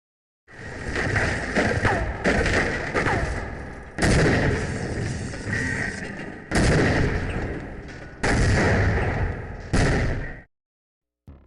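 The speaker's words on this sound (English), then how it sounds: "Weapons have that satisfying set of noises associated with them" Weapon fire in the video game Half-Life: Opposing Force: dense, loud bursts of gunshots and heavy impacts in several clustered volleys separated by brief drops, ending in a short pause and a final hit.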